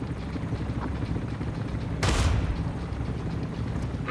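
Combat from units attacking in Tom Clancy's EndWar: a steady rumble of battle noise with one loud, broad burst of gunfire near the middle, fading back into the dense background.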